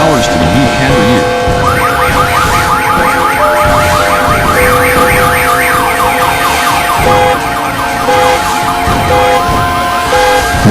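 Several car alarms wail and warble together on New Year's Eve after being set off by fireworks, with looping electronic sirens sounding loud and continuous and overlapping tones rising and falling throughout.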